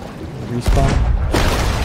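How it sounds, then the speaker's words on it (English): Two loud booming cannon shots in a pirate video game, heavy blasts about half a second apart, each with a rumbling, splashy tail. "Keep shooting with a cannon."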